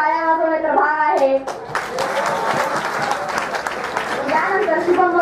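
A hall full of students clapping at a 12th-standard college farewell programme, the dense applause rising after a short spoken line and continuing steadily, with voices heard again near the end.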